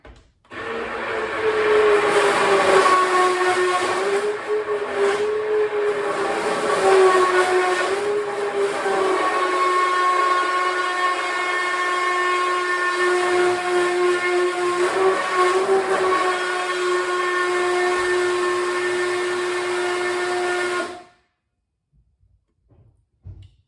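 An electric mixer whirs steadily through goat milk soap batter, a sustained close motor drone lasting about twenty seconds with slight shifts in pitch before cutting off abruptly into silence.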